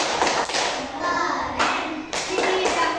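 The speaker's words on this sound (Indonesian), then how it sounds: "Tepuk keren untuk kelompok burung kakak tua." Third-grade schoolchildren in a classroom doing a rhythmic group clap, bursts of hand claps and taps with children's voices calling out between them.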